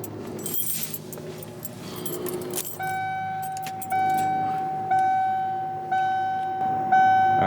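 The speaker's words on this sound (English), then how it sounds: "Let's put the keys back in it." Keys jangle and clatter near the microphone for a few seconds, then steady electronic chimes ring repeatedly as they go into the ignition of a Ford F-250 diesel truck that has sat unused for over ten years.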